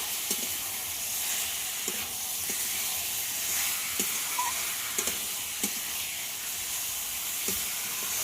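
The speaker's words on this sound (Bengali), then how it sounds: "চিকেনটা সব কিছুর সঙ্গে খুব ভালোভাবে কষিয়ে নেব।" Chicken sautéing with tomato paste and spices in a pan for a mango chicken dish, a steady close sizzle and hiss broken by a handful of sharp stirring scrapes spaced every second or so.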